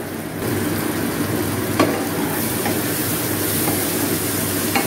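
Loud continuous sizzle of a Bengali small-fish curry with onion stalks frying in oil in a pan, hot water poured in, a dense hiss that holds steady with a few faint clinks, no talk.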